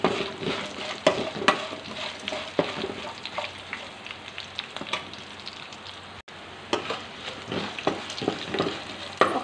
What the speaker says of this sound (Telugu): జీలకర్ర 1 స్పూన్. ఇవన్నీ ఒకసారి కలుపుకోవాలి బాగా వేడి.